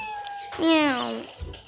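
A cat gives a single drawn-out meow, clear and fairly close, that rises and then falls in pitch, with faint background noise before and after.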